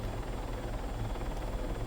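Helicopter in the Arma 3 video game lifting off from a helipad, its steady low rotor thump and turbine whine filling the whole short stretch at constant loudness with no talk.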